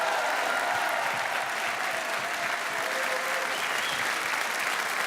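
An audience at a televised music talent contest applauds a Toulouse rock band, a dense, continuous wash of clapping held at an even level throughout.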